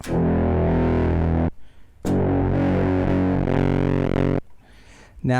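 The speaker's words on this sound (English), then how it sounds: "the quad comparator is acting more like a traditional distortion for this guitar signal" Heavily distorted guitar chords, run through a quad comparator synth module, ring out in two long sustained strums, fuzzy and buzzing, with brief gaps of quieter decay between them.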